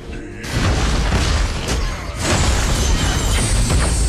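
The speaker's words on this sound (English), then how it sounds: "Your team has destroyed a tower." A tower is destroyed in the Arena of Valor mobile game, bursting with a loud booming explosion and crashing debris, followed by dense rumbling game effects.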